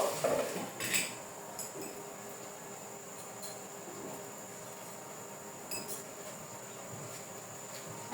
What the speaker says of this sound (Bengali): এখন আমি এখানে ঢাকনা দিয়ে কিছুটা সময় ঢেকে রাখবো